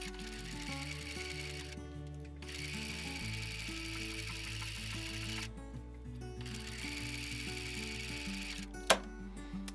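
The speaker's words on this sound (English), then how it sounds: "and we'll start sewing." A sewing machine stitches a diagonal seam on a sawtooth star quilt block, running steadily with a continuous mechanical whir that shifts speed in stages, plus a single sharp click near the end; no talking.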